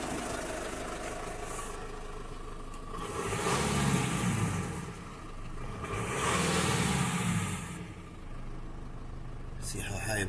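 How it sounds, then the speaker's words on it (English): A Mitsubishi L200 with a boost sensor hose fault idles, then its engine is revved twice in long swells that rise and fall back to a steady idle, recorded close, with a third rev starting at the end. "I'll rev it up and see what happens."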